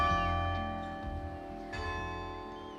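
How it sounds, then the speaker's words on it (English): Church bells in the Devon fishing town of Brixham ring out the hymn tune Abide With Me, a sustained, resonant peal of overlapping tones with fresh strikes every half second or so, steady and fairly loud, with no voices. "even the church bells ring out the famous tune"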